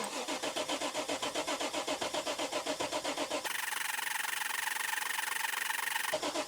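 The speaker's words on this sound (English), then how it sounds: "so we're ready to crank now" A Nissan Patrol engine cranks with a rapid, rhythmic starter churn for several seconds, then catches and runs with a steady, loud, close idle before the sound cuts briefly near the end.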